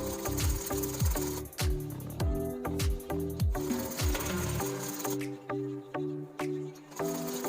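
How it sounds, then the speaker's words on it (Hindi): A sewing machine stitching a long strip around the neckline of a baby girl's frock, running in repeated bursts of rapid mechanical whirring separated by short pauses. "उसके बाद हमने एक लंबी सी पट्टी लेनी है कुछ इस तरह की, और गले के चारों ओर लगा के सील देना है।"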